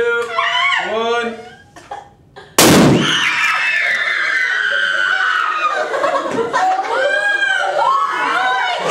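Hydrogen-oxygen gas mixture igniting in a single sharp, loud bang right after people talk and count down, followed by laughter and chatter.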